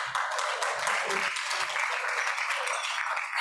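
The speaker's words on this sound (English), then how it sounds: "Forget that thing about holding the applause." Steady applause from an audience at a Rotary club meeting, continuous dense clapping filling the room for the whole stretch, with faint murmurs of voices beneath.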